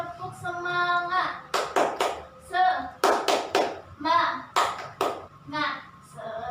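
A group of adults claps a rhythmic spirit clap at a training session, sharp bursts of claps in quick patterned groups, with voices calling out between the clap sequences.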